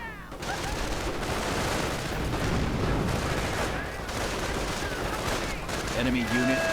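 Dense battlefield gunfire in a real-time strategy game, with a rapid, continuous crackle of rifle and machine-gun shots and booms, loud and unbroken, while a voice talks over it.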